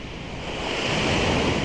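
Strong ocean surf roars continuously on a beach, a heavy rushing wash of waves mixed with wind buffeting the microphone.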